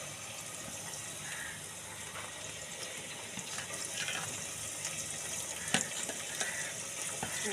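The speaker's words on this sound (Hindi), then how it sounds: "अब हम डालने लगे टमाटर।" Tomatoes hit a hot pan and fry with a low, continuous hiss and crackle, with a few soft knocks and stirring sounds near the end.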